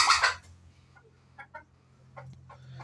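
A red desi hen climbing up to lay eggs gives soft, scattered clucks, close by and faint, after a brief louder squawk at the start, over quiet background.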